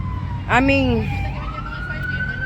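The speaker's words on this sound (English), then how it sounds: "Because the ambulance want to act like it got someplace important to go." An ambulance siren wails once in passing traffic, a loud rising-and-falling sweep near the start that gives way to a steadier tone, over a low rumble of road noise.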